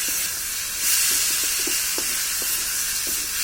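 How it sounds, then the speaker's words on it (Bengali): Mango pickle with sugar being stirred in a pan gives a soft steady hiss of steam and light sizzle, with faint scraping taps of the spoon at irregular intervals. "আমি একটু নাড়া দিব।"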